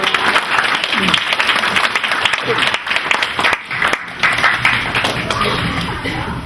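A church congregation at a Christmas service claps for guests invited to the front. The applause is loud and close, with a few scattered chuckles and voices under it.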